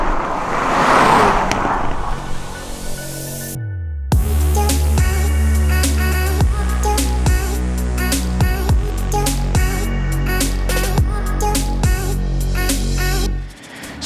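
Hot hatch cars in a drag race, including a Honda, an A45 and an RS3: a loud engine roar opens, then a steady engine note with rapid gear-change pulses and rising revs runs close and strong, fading at the end.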